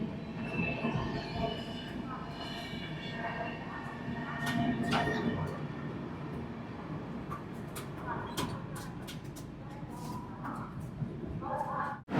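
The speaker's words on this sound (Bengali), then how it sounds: "ওদিকে আমাদের ট্রেন ঢুকে পড়লো তার পরবর্তী কমার্শিয়াল স্টপেজে" The 13051 Netaji Express, a Howrah-to-Kalka train, rolls into Mirzapur station with a continuous rumble and scattered metallic wheel squeals and clanks, heard from on board throughout.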